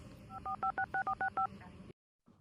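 A telephone keypad dials an emergency ambulance number: about eight short, evenly spaced touch-tone beeps in a quick run, then a cut to silence and a faint return of room noise.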